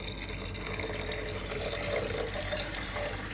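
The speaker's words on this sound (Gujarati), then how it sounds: "તો આમાં પાણી નાખી દઉં આપણે." Water pours steadily from a tap into a cooking pot of soaked urad dal, a continuous close splashing rush that runs the whole time with no talk over it.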